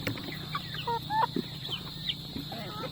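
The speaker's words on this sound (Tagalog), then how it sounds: "Ito na pala yung mga sisiw natin" Native chicken chicks in a duck pen, giving scattered short peeps and clucks, close and moderately loud over a steady background hum, with faint murmurs of other birds.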